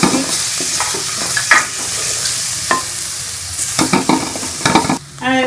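Onions frying in a pan with spices and ginger-garlic paste, sizzling steadily while a spoon stirs and scrapes through the mixture in irregular clinks, close and fairly loud, with no talking.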